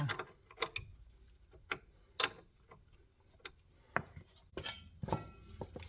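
A socket wrench working on the steering ball joint of a Renault Clio 2, irregular metallic ratcheting clicks and taps, some close and sharp, others softer, with no talking.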